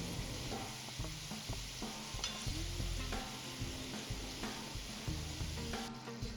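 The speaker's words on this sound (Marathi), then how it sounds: "आता आपण छान गोल्डन कलर येईपर्यंत करांजा तळून घेणार आहोत" Coconut karanji deep-frying in hot oil with a steady, close sizzle and occasional scraping and stirring clinks throughout.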